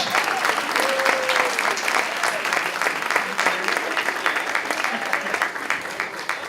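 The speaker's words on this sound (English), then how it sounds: "Please give them another round of applause." Sustained applause from an audience after a student presentation at a KAIST event, dense steady clapping filling the room throughout with some crowd noise mixed in.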